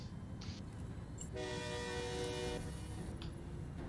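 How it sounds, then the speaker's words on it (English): Train horn in the Forza Horizon 5 racing game, a loud sustained harmonic blast lasting about a second over steady engine and road rumble, with no talk. "A train is coming, a train is coming, a train of cars is coming."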